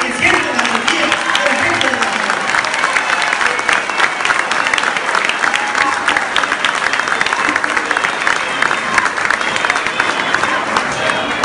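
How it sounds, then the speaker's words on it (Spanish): Sustained, dense applause from a large crowd at a political rally, loud and continuous for over ten seconds with a few voices mixed in. "Vamos dando un aplauso a querido para que sienta la energía."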